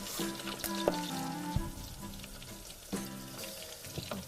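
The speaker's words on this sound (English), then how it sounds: "you can hear them bubbling and turning into little chili relleno bites" Small chili relleno bites bubble and sizzle softly in a frying pan, a steady low crackle of hot oil with faint clinks, heard close up and alone.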